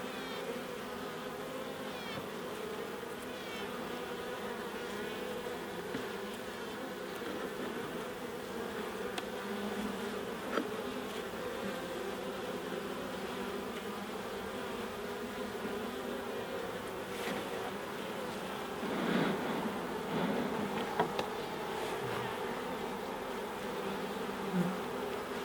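Honey bees from a wild colony cut out of its site drone in a steady, dense buzz around an open hive, even and fairly close with no voices.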